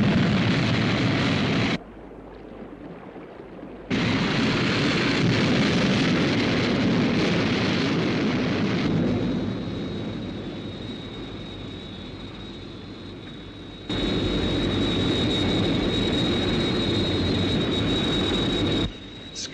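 A craft's liftoff and flight roars in a loud, dense jet-like rush, dipping briefly early on, then surging back and sustaining with a thin high whine before fading slightly and swelling again.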